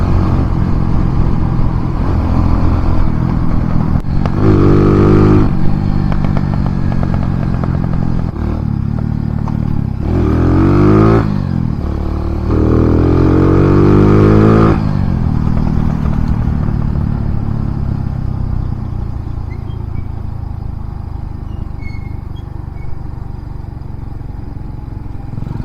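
A Kawasaki W175 fitted with a size 30 flatslide carburetor revs hard through second gear. Loud, close engine bursts climb in pitch, with several sharp surges around the middle, then settle into a steadier drone as the bike cruises on.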